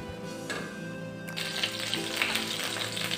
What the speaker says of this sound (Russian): Ставлю на плиту сковороду и разогреваю ее с добавлением 50 грамм сливочного масла